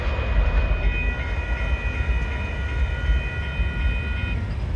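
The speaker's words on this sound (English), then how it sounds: "that's the end of the train" A Union Pacific grain train rolls past a road crossing at the Power and Pecos Road intersection, a loud, close, steady rumble of rail cars with a sustained high crossing-bell tone running over it until near the end.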